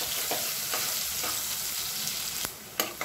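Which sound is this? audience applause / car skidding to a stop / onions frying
onions frying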